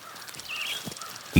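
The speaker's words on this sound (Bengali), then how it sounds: "চারপাশ থেকে ভেসে আসছে পাখির ডাক" A crow cawing in a forest with a short harsh call over quiet background, followed by a louder sudden burst at the very end.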